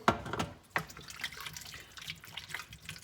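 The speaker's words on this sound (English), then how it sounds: "I'm going to add water to that." About two litres of water poured into a pot of pumpkin, a splashing tap-like stream with a few sharp sloshes at the start, then a softer steady trickle, fairly quiet with no talk.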